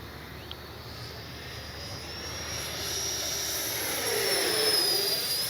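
A Freewing 90mm Zeus RC jet flies past with a smooth, quiet electric ducted-fan whine that swells steadily as it approaches, heard at a moderate distance.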